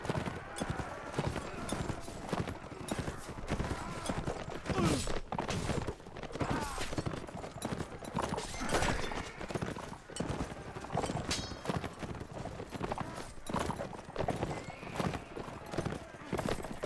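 Horse hooves gallop in a steady, rapid clip-clop throughout the Mount and Blade Warband game, with occasional neighs and thuds over a dense, busy background.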